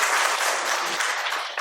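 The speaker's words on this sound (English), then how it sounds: "A big round of applause for her inspiring contribution to the field of education." Audience applause at an education workshop, a dense, steady wash of many hands clapping at close range, holding loud and even for the whole moment before tapering slightly at the end.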